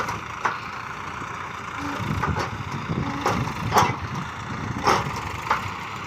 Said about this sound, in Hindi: अब ट्रैक्टर कैसे उठ रहा है।